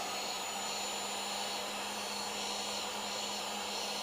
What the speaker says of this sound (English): add a little bit of heat to the back side of the screen, not the front